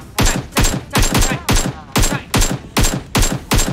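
Rapid, loud gunfire in the video game PUBG Mobile, about ten sharp shots in a steady rhythm, close and dominant with no talk over them.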